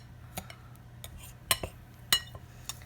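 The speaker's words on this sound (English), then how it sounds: "just use 2 knives crosswise and cut up your butter chunks" Two knives scraping crosswise through butter chunks in flour for cheddar ramp buttermilk biscuits, giving soft, faint clicks and taps at an irregular pace, with a few sharper metallic clinks standing out from a quiet room.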